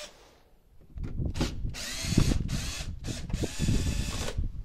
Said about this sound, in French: je vais prendre ma visseuse avec du cruciforme. Et on va dévisser tout ça